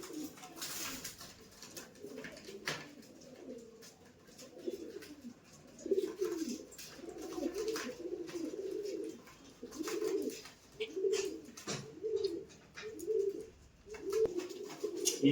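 Pigeons cooing on a rooftop during free-fly training, repeated soft throaty coos that grow more frequent in the second half, close by with faint background noise.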